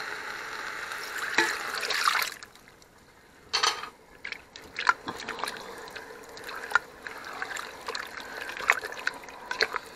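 A whole can of milk is poured into a pot of chicken curry with potatoes and cauliflower, trickling and dribbling in soft, intermittent bursts with small splashes and drips, fairly faint and close.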